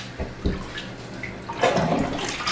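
Water gurgling and sloshing as a bathtub drains after washing a wedding dress, with irregular splashes and swirls close by, no voices.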